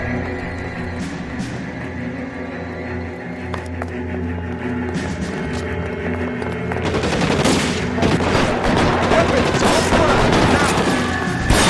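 Covering gunfire in a video game, with sustained automatic bursts and scattered shots that grow denser and louder partway through, under game voices.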